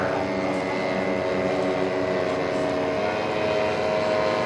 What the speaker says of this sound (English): Booker D7 being flown by Ben Haggerty